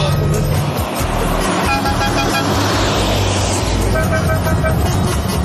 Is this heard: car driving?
yes